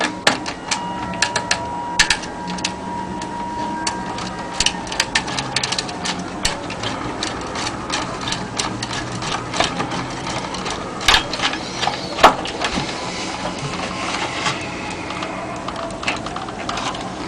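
Small metallic clicks and ticks of a screw and clamp being fitted while a power transformer is replaced in an appliance, sporadic close taps over a quiet workbench background with no speech.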